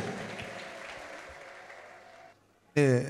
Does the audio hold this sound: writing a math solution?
no